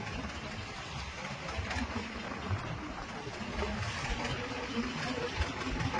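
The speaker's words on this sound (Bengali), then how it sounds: "দেখুন একটা ট্রলার আমাদের পাশ দিয়ে এগিয়ে চলেছে" A fishing trawler's engine passing on rough water in the Bay of Bengal: a continuous mid-pitched engine drone blended with the rush of waves, steady and fairly close throughout.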